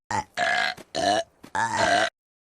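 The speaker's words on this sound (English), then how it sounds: "A burp or belch can help ease an upset stomach." Four loud belches in a row, deep and throaty, each a short burst with brief gaps between them, close up.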